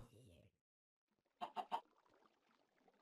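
Chickens in a hardcore Minecraft game, three quick clucks in a row, close and clear, after a brief bit of voice and a pause of silence.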